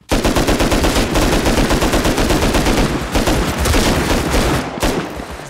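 Rapid automatic gunfire in a video game, a fast steady stream of loud shots rattling for several seconds before a brief gap and a final burst.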